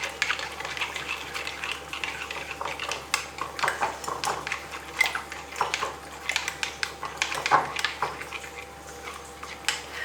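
Eggs and milk beaten with a spoon in a bowl, giving a fast run of close, light clinking and tapping strokes against the dish, steady and unbroken with no talking.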